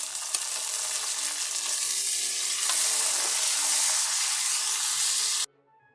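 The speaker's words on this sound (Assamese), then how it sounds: "প্ৰথমতে আমি বিলাহীখিনি ভাজি ল'ম" A pan sizzles loudly and evenly as tomatoes fry, then the sound cuts off abruptly near the end.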